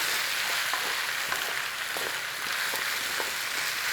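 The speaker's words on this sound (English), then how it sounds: "Stir it in, cook it for about a minute." Tomato paste fries in a pan with a steady, even sizzle, broken by soft scraping ticks as it is stirred in, close and moderately quiet with no talking.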